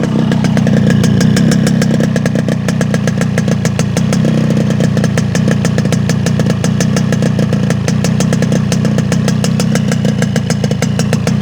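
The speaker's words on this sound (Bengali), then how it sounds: "এবার আপনাদেরকে গাড়ির ইঞ্জিনের সাউন্ডটা একটু" A Yamaha RX motorcycle engine running steadily, a loud, close, rapid two-stroke putter with a fast even pulse that holds throughout without pause or talk.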